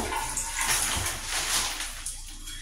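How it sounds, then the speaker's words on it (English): Water from a home shower running steadily nearby, a broad hissing spray that swells and dips slightly as it splashes, with no talking. "this was only a quick shower just to play with y'all and rinse the day away."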